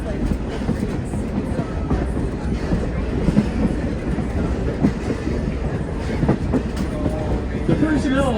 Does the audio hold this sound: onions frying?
no